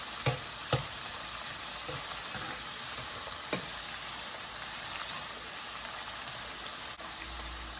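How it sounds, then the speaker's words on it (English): Steady, dense sizzle of plantain slices frying in hot oil, with a few sharp pops and clicks along the way. "When you're frying, you gotta shift them around so that they separate and fry evenly"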